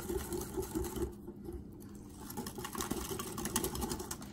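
A whisk clatters quickly and steadily against a bowl, beating batter with a pinch of salt, close and faint with a brief lull partway through and no voices.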